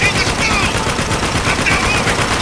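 Sustained gunfire from the video game Spec Ops: The Line, a dense, loud rattle of automatic shots running through the whole stretch with faint voices underneath.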